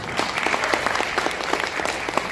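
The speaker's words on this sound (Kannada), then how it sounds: "ಸೊ ಏನೋ ಸ್ವಲ್ಪ ಚಪ್ಪಾಳೆ ಕಮ್ಮಿ ಕೇಳಿಸುತ್ತೆ" A crowd at a Kannada film event for Bank of Bhagyalakshmi applauds the trailer, with brisk, crisp clapping filling the room evenly throughout and a few sharper individual claps standing out close by.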